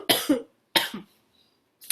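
Two harsh coughs close to the mic, separated by a short pause, with the start of a third at the end.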